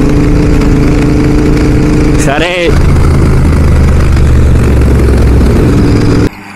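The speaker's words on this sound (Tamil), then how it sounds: "டிராக்டர் உள்ளே வந்துட்டாரு" A loud, close tractor engine chugs steadily at idle with a brief voice and a high whine partway through, then cuts off sharply near the end.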